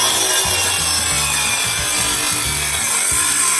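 A hand saw rasping through wood guided along a speed square, loud and close, with continuous back-and-forth strokes in a steady rhythm of roughly two per second and no talking.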